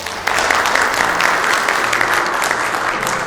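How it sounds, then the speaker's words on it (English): A conference audience gives loud, dense applause as a speaker is welcomed at an allied health agency event, with steady clapping filling the room at close range. "please help me welcome Wissam Bazzi with a loud applause"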